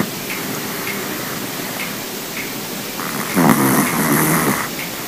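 A person snores steadily at close range, with rough, rasping breaths over a soft background hiss and no voices.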